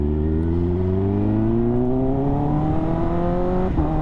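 A 2025 Kawasaki ZX10R with a BT Moto stage 2 tune accelerates hard, its engine note climbing steadily before a quick-shifter upshift briefly drops the pitch near the end, loud and close.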